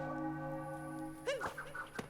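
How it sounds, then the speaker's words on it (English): A bell ringing in the Super Mario Odyssey video game, sustained tonal ringing with lingering overtones, followed by short bursts of game sound effects near the end. "So we got this bell here. And that's continuing to ring."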